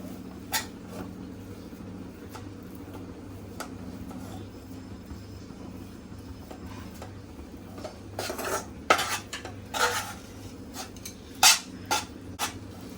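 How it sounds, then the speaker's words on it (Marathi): Khoa for basundi is stirred in a pan over low heat, with intermittent spoon scrapes and metallic clinks over a steady low hum, growing busier toward the end. "गॅस एकदम स्लो करून परतून घ्यायचंय आहे"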